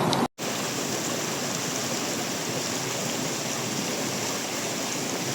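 Steady, loud rushing of clear river water where two rivers meet beside a farm lot, a continuous broadband roar heard close up with no talk, after a brief dropout at the start.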